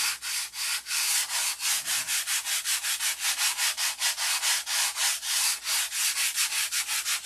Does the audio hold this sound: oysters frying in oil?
no